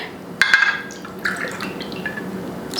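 Water poured from a jug into a half-cup measuring cup, a short splashy trickle with a couple of drip-like accents.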